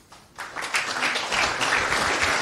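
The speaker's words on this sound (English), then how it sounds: "a large applause, a warm applause to him" An audience at a conference talk breaks into applause, starting from a few claps and quickly swelling into steady, dense clapping that fills the room.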